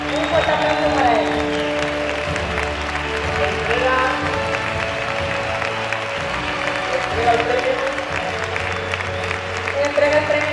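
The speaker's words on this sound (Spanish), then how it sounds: "Un fuerte aplauso para él." Audience applause for an award winner at the 2016 Extremadura song festival prize ceremony, steady and sustained clapping blended with music and room sound for about ten seconds.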